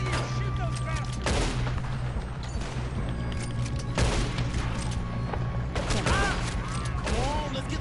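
Gunfire in Red Dead Redemption 2 during a chaotic battle, with scattered loud shots and volleys over a constant low rumble of combat and game ambience, voices shouting in the background.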